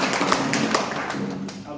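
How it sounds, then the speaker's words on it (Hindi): Audience applause at a seminar in Madhepura: a crowd claps in a brisk, even patter, fairly close, with a voice talking over the clapping. "जोरदार ताली।"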